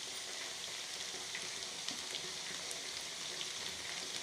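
Egg fried rice frying on high flame in a pan, a continuous faint sizzle with tiny pops throughout and no voices.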